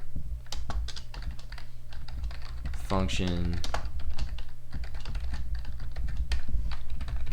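Rapid clicking of a computer keyboard as code is typed, close and irregular keystrokes throughout, with a brief spoken word partway through.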